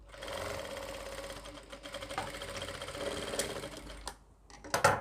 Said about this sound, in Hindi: यहाँ पे लगाएंगे सिलाई खींच के